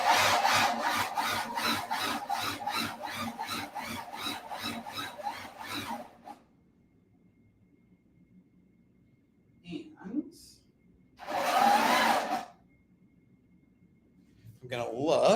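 A sewing machine runs in a fast, steady mechanical rhythm for about six seconds while it is driven to clear off oil before quilting. It cuts off abruptly, and brief rustles and a short burst of whispery handling follow.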